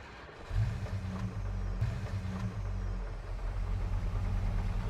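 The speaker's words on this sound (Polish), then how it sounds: "W takim razie wsiadam w lawetę i od razu tam podjeżdżam." A tow truck engine idles, then pulls away with a steady, low rumble, heard up close and alone for several seconds.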